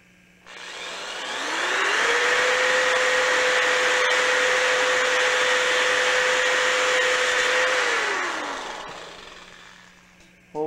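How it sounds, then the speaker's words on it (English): Power drill whines up to a steady high speed, boring a hole through a lightsaber tube, then holds that pitch for several seconds before winding down. "You don't want to drill from this side because your drill will hit the tube"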